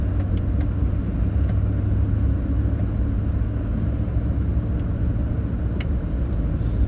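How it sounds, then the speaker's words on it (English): A tow truck drives along a street in Roswell, New Mexico, giving a steady, loud low rumble of road and engine noise that continues unbroken with no voices. "What is going on there? Is that a tow truck or something?"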